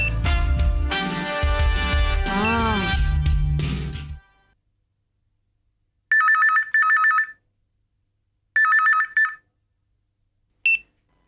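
A telephone rings in a Tamil fantasy comedy series: after a stretch of loud music, three bright electronic ring bursts sound, separated by silence, the last one short.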